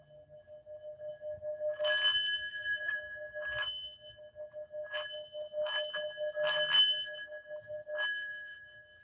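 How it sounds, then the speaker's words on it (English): A $36 metal singing bowl is struck about five times at an unhurried pace; each strike blooms into a bright, sustained ring that overlaps the last, close and fairly quiet. "this is the singing bowl that I got from Crazy Wisdom"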